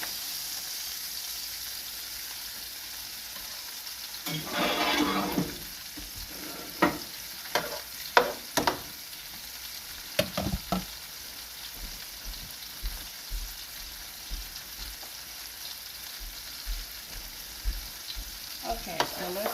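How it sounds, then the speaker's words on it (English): Onions sauté in a pan for paprika chicken with a soft continuous sizzle, broken by clinks and scrapes of stirring that come in a loose rhythm. No voices. "let's saute these onions"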